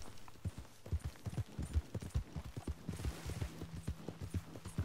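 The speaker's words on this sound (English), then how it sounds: "Get on the horse." Horse hooves clip-clopping at a steady gallop in Red Dead Redemption 2, a continuous rhythmic run of close, soft thuds with no talk over it.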